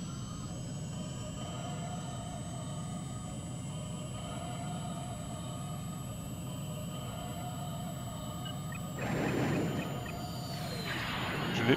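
Jet aircraft engine in the video game Ace Combat 3, a steady roaring whine that swells briefly near the end, heard alone with no voices over it.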